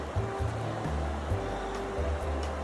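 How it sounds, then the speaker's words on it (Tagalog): Continuous rushing water with a low, broad roar and no pauses, a big river flowing steadily close by at Bragg Creek, Alberta, Canada. "nandito na kami sa tabing ilog"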